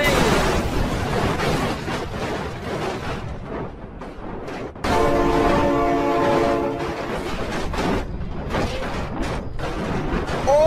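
Loud toy train horn sounding over a busy play scene, with harmonic tones swelling midway through a rumbling, clattering run as excited voices shout nearby.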